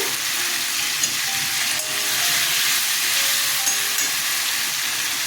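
Potatoes and mango pieces fry in a pan of katla fish curry, giving a steady, loud sizzle and hiss that holds without a break, with only faint stirring underneath.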